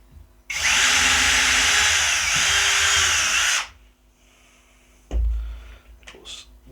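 A Worx WX177.9 brushless switch driver in drill mode bores into softwood, a loud steady whine for about three seconds that cuts off, then a short low thump and rattle afterward.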